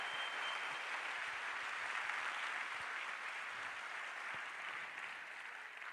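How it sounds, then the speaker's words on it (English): A large auditorium audience applauds Zulu dancers at an astronomy general assembly, a dense, steady wash of many clapping hands that holds evenly for the whole stretch and eases only slightly near the end. "those were Zulu dancers. They deserve a round of applause, I think."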